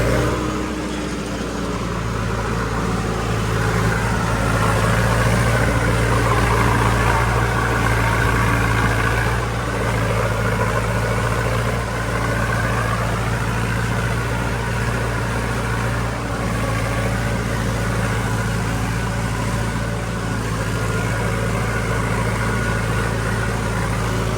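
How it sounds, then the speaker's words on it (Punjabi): A tractor engine runs steadily in a low gear, driving a maize machine, with a continuous loud, low drone and a constant mechanical hum that carries through from start to finish. "ਅੱਜ ਉੱਥੇ ਲੋ 'ਚ ਟਰੈਕਟਰ ਚੱਲਦਾ ਜਿਹੜਾ ਕਿ ਪਹਿਲਾਂ ਤੀਜੇ ਲੋ ਦੇ ਵਿੱਚ ਚੱਲਦਾ ਹੁੰਦਾ ਸੀ"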